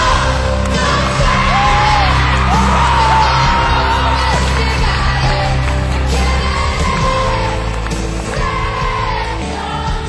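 A packed stadium crowd at a 2009 world tour concert in Rimini cheers and yells continuously, a loud, dense roar of voices with whoops rising and falling throughout.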